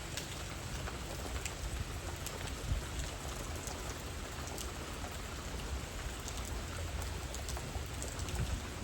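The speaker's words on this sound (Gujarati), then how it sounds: "પાણી ભરાઈ ગયું ચારે બાજુ। વરસાદ ચાલુ છે સવારનો" Steady rain pours across a flooded garden and surrounding farm fields, a dense, continuous hiss with scattered drop patter throughout, heard alone with no voices.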